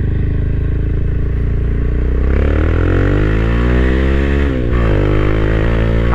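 Motorstar GPR250 Xplorer motorcycle engine heard while riding, a loud continuous drone that climbs in pitch as it revs through the gears, briefly dipping at a shift before rising again, with no talk.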